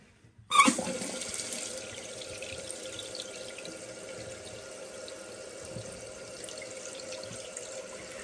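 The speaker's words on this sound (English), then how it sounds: "with everything reconnected, go ahead and turn the water back on." Water rushes in with a sudden onset, then settles into a steady, continuous hiss of a toilet tank refilling, fairly close and even throughout.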